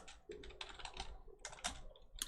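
Rapid clattering keystrokes on a computer keyboard, typed in short irregular bursts close to the mic, with brief pauses between runs of keys.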